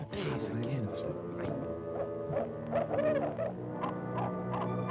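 An owl hooting in a film soundtrack, a series of warbling, chattering calls repeated over a few seconds with other animal-like noises around it.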